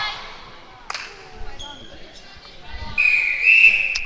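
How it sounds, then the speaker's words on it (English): A referee's whistle sounds at a netball preliminary final, a short blast followed by a longer shrill one over arena crowd noise and a bouncing ball, with a commentator talking. "There's a whistle there."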